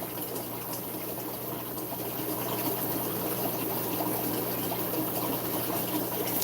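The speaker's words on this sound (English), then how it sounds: "I'll refill this tank with water I have." Water pouring in to refill a fish tank holding German blue fry, a steady close rushing and trickling wash with a low pump-like hum, continuous throughout with no speech.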